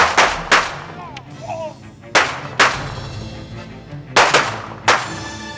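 Gunpowder gunshots in a village, six loud, sharp cracks in spaced pairs, each with a short ringing decay, with faint background sounds in between.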